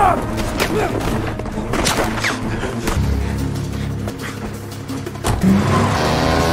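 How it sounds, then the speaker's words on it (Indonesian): Gunfire and a car feature in a movie getaway scene, with dense, loud bangs, thuds and crashes over a steady engine rumble, ending in heavier impacts. "Mereka berdua pun kabur ke mobil dari hujanan peluru dan masih dikejar 2 anak buah Lucas."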